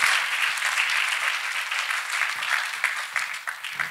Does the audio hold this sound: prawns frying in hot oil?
no